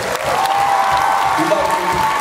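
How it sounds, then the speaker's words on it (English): Audience applause at a community evening event, a broad crowd clapping with some cheering mixed in, heard under a steady tonal hum and faint voices throughout. "So one more round of applause for Brother Tarek there."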